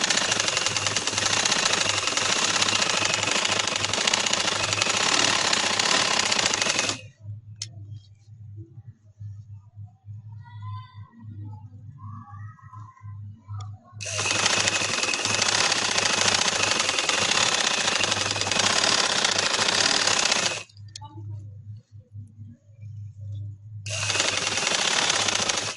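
Sewing machine stitching the side seam of a pair of trousers, running loud and steady in three long bursts separated by quieter pauses with a low hum.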